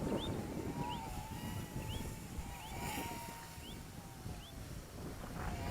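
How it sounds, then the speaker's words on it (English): Steady outdoor wind blowing across the microphone while a micro drone flies, a constant broadband rush with faint whistling chirps repeating above it, no talk. "The wind's starting to come up a bit"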